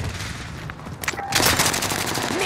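Rapid automatic gunfire from a first-person shooter video game, dense bursts of shots that grow louder and fuller in the second half, with no voices over them.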